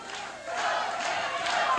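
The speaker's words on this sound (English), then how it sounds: "The crowd begins to yell for Kevin Von Erich." A wrestling crowd at a 1979 St. Louis match yells in a loud, continuous roar of mixed voices that swells slightly partway through.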